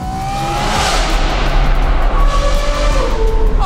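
A supercar fitted with a new aftermarket exhaust roars loudly and continuously, its high, smooth engine note rising and sweeping close by with a racing-car edge.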